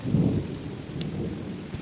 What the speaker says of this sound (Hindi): बारिश बहुत तेज़ हो रही थी, आवाज़ आई मुझे